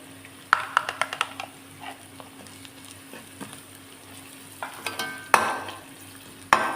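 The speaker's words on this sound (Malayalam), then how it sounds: "ഗ്രീൻ ചില്ലിയും കറി ലീവ്സും ഇട്ട് കൊടുത്ത് വഴറ്റുക. പൊടിയിട്ട് വഴറ്റുക." Green chillies, curry leaves and spice powder being sautéed in a pan for vegetable kurma, with a low steady sizzle broken by sharp stirring scrapes and knocks of a spoon against the pan.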